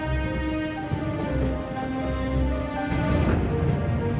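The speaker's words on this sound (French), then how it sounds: "Malgré le bruit de l'orage qui emplissait le château" Steady rain falls with a soft, constant wash of drops under a low background rumble, continuous and moderately quiet, with a slight swell near the end suggesting distant thunder during a storm at a castle.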